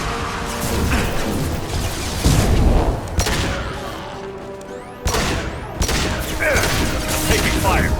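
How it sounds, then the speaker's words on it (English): Gunfire in the Mass Effect 2 video game, dense bursts of shots and heavy impacts crowding together, loud and close, with a couple of sharp cuts in the din. "Taking fire."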